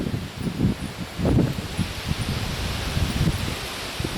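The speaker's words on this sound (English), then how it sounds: "the wind is pretty strong today" Strong, gusty wind on an open off-grid homestead blows steadily in broad, rushing noise, with louder swells near the start and again toward the end, rustling close to the microphone throughout.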